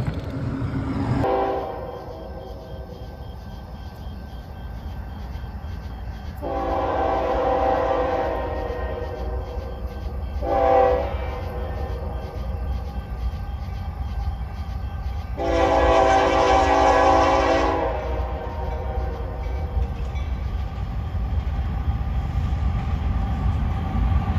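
A freight train rumbles steadily by as a horn sounds in several long blasts, one short, then a final sustained one, loud and fairly close.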